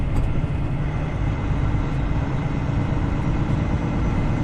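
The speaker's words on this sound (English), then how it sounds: "Oh, those train tracks are getting louder." A steady, loud rumble and clatter of a train rolling along railroad tracks in the United States, continuous throughout with no voices.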